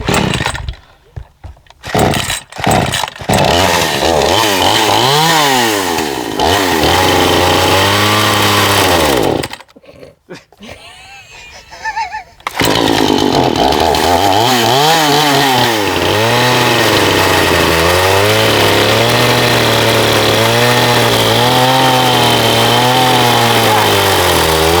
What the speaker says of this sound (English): let's put the chainsaw mark in it